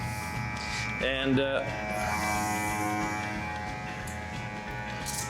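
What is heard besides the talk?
battery-powered garden sprayer motor running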